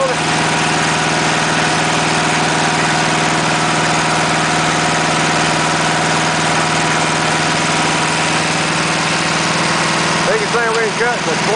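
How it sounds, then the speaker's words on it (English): Portable dimensional sawmill powered by a Volkswagen engine runs at a steady idle, a loud continuous mechanical drone with vibration throughout, and a brief voice comes in near the end. "Got a Volkswagen engine on it."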